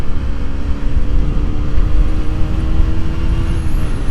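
A KTM RC 125 motorcycle accelerating while overtaking on the road, its engine a steady, close, broadband roar mixed with heavy wind rush and no voices.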